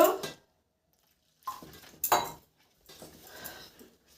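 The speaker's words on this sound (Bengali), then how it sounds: "অল্প অল্প জল ঢেলে বাটারটাকে মাখিয়ে নিব।" Spoon clinks against a bowl in a few short bursts as pakora batter is mixed with small splashes of added water, separated by stretches of quiet.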